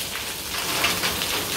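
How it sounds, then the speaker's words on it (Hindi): Heavy rain pours steadily on a path near Lakshman Jhula, a dense, even hiss of drops with no voices. "ये देख रहे हो कितनी तेज बारिश है"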